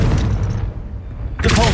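Confringo explosive spell in Hogwarts Legacy: a loud, booming blast with a rumbling tail that fades, followed by a second burst of impact noise, alone with no talk.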